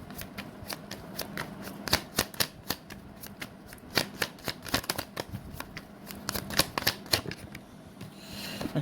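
Tarot cards are shuffled by hand in a run of crisp, quick riffles and taps, close and fairly quiet, with no talk.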